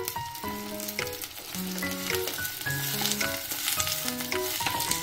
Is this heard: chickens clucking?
no